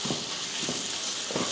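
Chopped coriander and curry leaves are stirred into a sizzling masala in a pan, a steady frying hiss with three soft scraping stirs, close and fairly loud.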